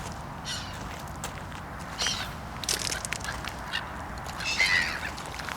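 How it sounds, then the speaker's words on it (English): Seagulls over a lake at a Lancashire fishery give several harsh, scattered calls from a short distance over steady outdoor wind noise. "Bloody seagulls."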